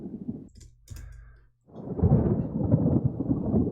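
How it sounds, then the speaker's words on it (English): Thunder sound effect in a music production, made from a heavily filtered wavetable and panned across the stereo field; a short rumble and crackle gives way to a sustained, loud rolling thunder. "thunder sound panning."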